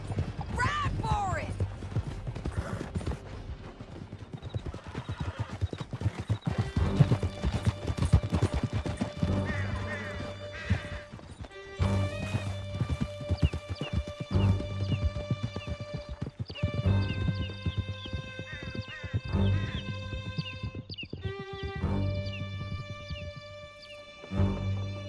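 Horses galloping hard through a canyon in Red Dead Redemption 2, a dense, steady drumming of hooves with occasional whinnies, carried on for a long stretch under music and bits of spoken dialogue.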